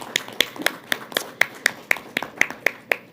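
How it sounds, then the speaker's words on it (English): At a creative art centre consultation and mixer, a single pair of hands claps in a steady, evenly spaced rhythm of about a dozen sharp claps, close and alone without talk. "I do believe we can applaud the design"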